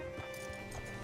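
A horse's hooves clip-clop at a slow walk in Red Dead Redemption 2 on arrival in the town of Rhodes, the steps faint and soft beneath a low background hum.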